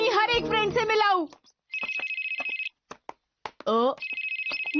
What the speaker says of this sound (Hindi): मोबाइल की घंटी है ना?